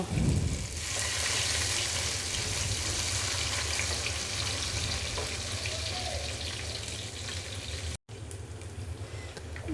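Nuts, cardamom, cinnamon and bay leaf fry in hot ghee in a pan, making a dense, loud, continuous hiss that runs throughout, broken once by a very short dropout.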